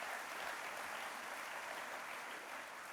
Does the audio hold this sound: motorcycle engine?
no